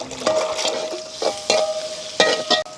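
Sliced onions and green chillies sizzle steadily in a pan for a village chicken curry, close up, while a spoon scrapes and stirs them in several sharp bursts, with no talking.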